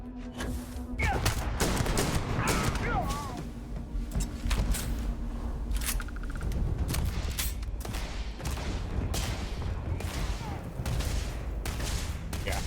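Rifle gunfire in the video game Starfield, a steady run of sharp shots and thuds spread across the whole stretch, mixed with game effects and brief voice sounds.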